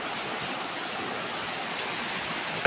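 A river flowing, a continuous rushing water sound at moderate level that stays even throughout, ending with a short sharp knock.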